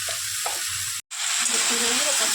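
Bottle gourd and fried potatoes with turmeric, salt and chili powder being stirred in a pan, a steady close sizzle with scraping, a brief silent gap, then louder frying with spoon scrapes.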